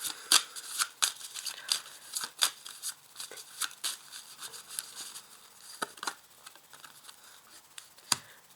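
Tarot cards are handled and laid out on a surface. Quiet, close soft taps, slides and rustles come at an irregular pace.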